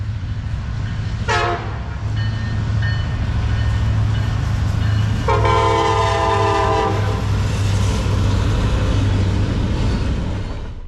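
A train rumbles steadily past on nearby rails in Lincoln County, Kentucky, its horn blaring in a short blast and then a longer one over the continuous roar of the wheels.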